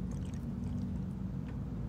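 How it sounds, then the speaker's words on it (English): Water poured slowly through a funnel into a spray bottle, a faint, soft continuous trickle and gurgle at close range, with no one talking. "fill the spray bottle with water using the funnel"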